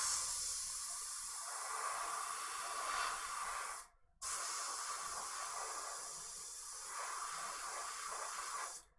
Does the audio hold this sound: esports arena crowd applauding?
no